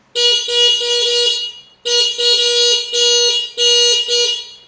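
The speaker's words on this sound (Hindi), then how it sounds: "और फिर हॉर्न दो दिए मैं" A loud electronic horn on an electric tricycle beeps in a series of short, evenly spaced tones, pausing once before continuing, close and piercing.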